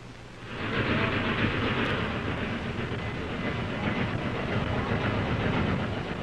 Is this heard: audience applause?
no